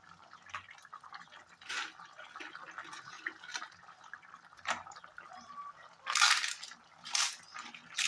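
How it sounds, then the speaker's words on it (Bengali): Soybean and potato curry gravy bubbling in a pot on the stove: soft irregular pops and plops, quiet overall, with a few louder splashy bursts toward the end and no talking. "তো ঝোল একবার টকবক করে ফুটে গেছে"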